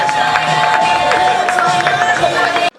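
A dense crowd applauds and cheers loudly and continuously for a newly formed couple at a dance floor event, the roar holding steady before cutting off abruptly.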